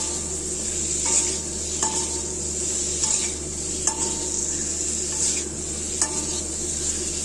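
Prawns and spiced masala being stirred in a pan for a prawn and mankochu curry, a steady close sizzle with periodic scraping strokes of the spoon roughly every second, no voices.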